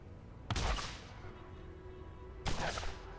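Gunfire in the video game Borderlands: two sharp, booming shots about two seconds apart, each trailing off in a short echo over quiet background noise.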